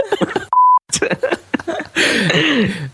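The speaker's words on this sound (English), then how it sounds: "I'm gonna have to put in a beep." A short, steady electronic censor beep cuts into a man's speech, and he keeps talking after it over background noise.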